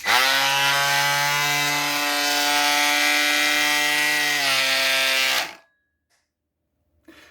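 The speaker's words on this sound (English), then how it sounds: "took my handy reciprocating multi-tool. I'm going to turn it on just in case you've never seen one of these before" A reciprocating multi-tool cuts through wooden door molding with a loud, steady, high-pitched buzzing whine for about five seconds, then stops abruptly into near silence.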